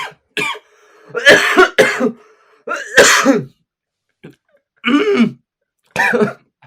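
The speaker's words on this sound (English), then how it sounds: "when you coughed, I still heard every minute of it" Several harsh, throaty coughs come in bursts, loud and close, separated by short silences.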